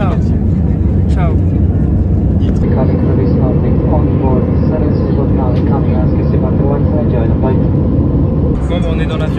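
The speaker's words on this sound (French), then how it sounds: "on est dans l'avion" Airplane cabin noise, a loud continuous broadband roar of the engines heard from a passenger seat, with people talking over it.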